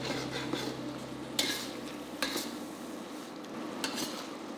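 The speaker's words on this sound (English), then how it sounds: "Take this opportunity to deglaze the pan by gently removing the fond from the bottom of the pan." Sauce in a stir-fry of chicken and broccoli sizzles softly while a utensil scrapes and stirs the pan bottom to lift the fond, with occasional light metallic clinks close by and no talk.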